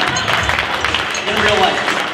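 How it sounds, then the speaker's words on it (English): Audience applause at an awards dinner entertainment show, a dense, loud wash of clapping from a crowd in a hall, steady throughout and close. "receive your well-deserved applause"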